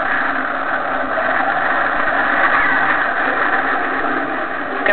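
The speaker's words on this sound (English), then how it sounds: "Discovery's rolling out on runway 33 at the Kennedy Space Center" Space shuttle Discovery rolls out on runway 33 at Kennedy Space Center after landing, a constant loud, muffled roar that holds even throughout.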